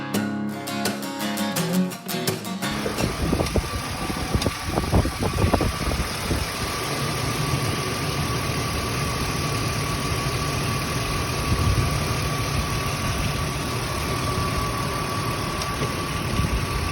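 A 2005 Ford Explorer engine idles steadily up close with a faint tick in the running, heard near the serpentine belt and tensioner pulley, a continuous mechanical hum after some brief clicks at the start.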